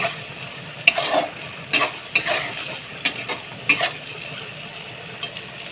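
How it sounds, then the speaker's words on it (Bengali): Prawns frying in a pan for prawn fried rice, a low sizzle broken by several loud scrapes and tosses of a spatula against the pan, close and uneven, without speech. "এই চিংড়ি মাছগুলো সব আমি এর মধ্যে দিয়ে দিলাম দিয়ে আমি এক থেকে দু মিনিট একটু হালকা হাতে ভেজে নেব"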